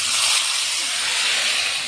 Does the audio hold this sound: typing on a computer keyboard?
no